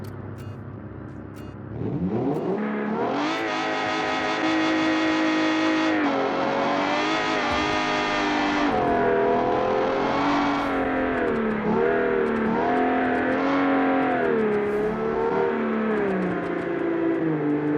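Several video game car engines, starting with a Model X, roar and rev upward together, a loud sustained whine that climbs and wavers in pitch without any talking.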